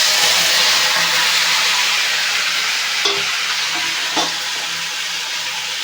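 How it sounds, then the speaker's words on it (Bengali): Marinated fish laid into hot oil in a kadai tempered with black cumin, a loud dense steady sizzle and hiss close up, with a couple of brief knocks of the fish or utensil partway through. "এইবার মেখে রাখা মাছটাকে কড়াইয়ের মধ্যে ভালো করে পাতিয়ে দেবো"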